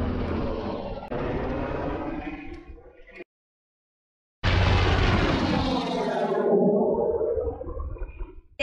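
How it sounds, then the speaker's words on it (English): Navy aircraft flying low over a sailboat at sea, a loud roaring jet engine sweep that swells, cuts briefly, then returns with a falling, Doppler-shifted roar as it passes close overhead. "And we have the Navy flyby."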